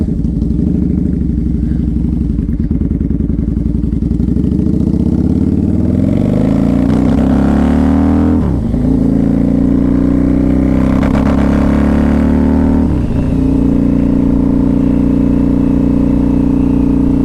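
A 2003 Harley-Davidson V-Rod with forward controls on the road, its engine droning loud and close as revs rise steadily, then dip sharply twice at gear changes before settling into a strong steady cruise, with no speech over it.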